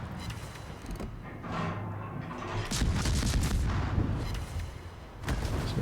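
Ship guns fire in the naval video game World of Warships, with the destroyer USS Farragut in play: heavy booming salvos and crackling blasts roll in over a constant rumbling background, loud and close.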